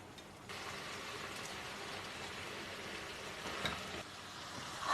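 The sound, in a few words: meat frying on high flame for haleem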